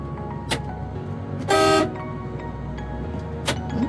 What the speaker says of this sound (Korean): 에어혼이 들어갔죠.